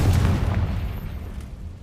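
A Confringo fire spell explodes in Hogwarts Legacy, a short, heavy boom with a rumbling low-end tail that fades over about two seconds, with no voices.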